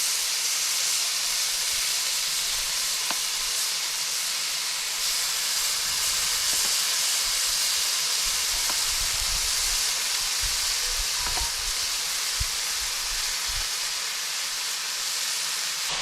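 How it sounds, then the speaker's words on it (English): Baby back ribs sizzle on a Big Green Egg grill, a constant loud broadband hiss like escaping steam held for the whole stretch, with a few faint low thumps and clicks underneath. "Can y'all hear that sizzle?"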